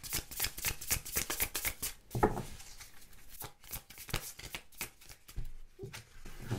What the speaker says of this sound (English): like it's so hard to shuffle sometimes